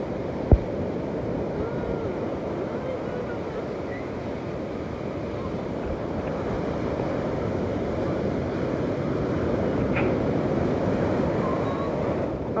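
Big ocean waves crashing at New Smyrna Beach, a loud continuous roar of surf with wind buffeting the microphone, heard alone without talk.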